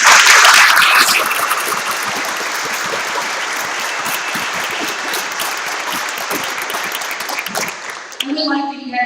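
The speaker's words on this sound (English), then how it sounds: "Can we have another round of applause for all of our workers today?" A room of attendees at a Rotary club meeting breaks into loud, sustained applause, the clapping gradually easing before a voice begins speaking near the end.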